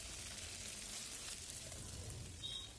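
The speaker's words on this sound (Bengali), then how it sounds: "মাছগুলো ভাজা হয়ে গেছে" Prawns fry in mustard oil in a kadai, giving a steady, close sizzle with a fine crackling hiss and no talking.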